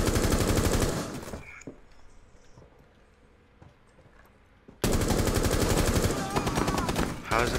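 Loud bursts of rapid automatic gunfire in a video game, a dense stream of shots for over a second, then a quieter stretch of scattered distant shots and footsteps, then another long close volley.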